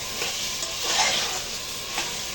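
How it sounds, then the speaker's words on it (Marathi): Dry spice powders (garam masala, coriander and turmeric) being sautéed in a pan for a pressure-cooker veg pulao, heard as a steady close sizzle with soft scraping stirs and a few brief louder swells, no talking. "हा सुका मसाला सर्व टाकून पुन्हा परतायचं आहे"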